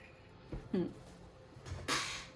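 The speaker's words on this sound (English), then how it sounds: "Sorry, my chair is very noisy." A few short creaks and rustles, like a chair shifting under someone's weight, with quiet pauses between them.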